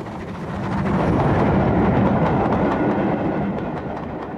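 Unrebuilt Bulleid steam locomotive 34064 Fighter Command, fitted with a diesel ejector, passes with its train in 1996 Southern railway scenery, a loud rumbling roar swelling then easing, with rhythmic clickety-clack over the rails.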